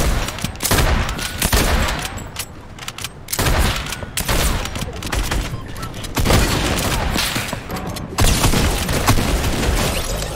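Rapid gunfire and booming blasts from an exotic sniper rifle and grenade launcher in a shooter video game, dense and loud, with repeated bursts and heavy impacts throughout.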